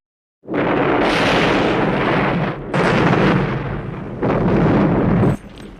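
Loud, booming explosions from a war film roar in three long waves, each rumbling heavily before cutting off, with a deep, thunderous low end.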